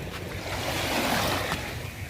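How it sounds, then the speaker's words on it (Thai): Waves wash against the shore in a soft, continuous rushing swell, with some wind noise and no voices. "จะยินเสียง คลื่นครับ เข้าชายฝั่งนะครับ"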